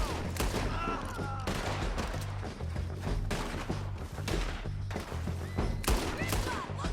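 Rapid gunfire in Red Dead Redemption 2 during a shootout near a bridge, dense bursts of loud cracking shots overlapping in close succession, with heavy thumps throughout.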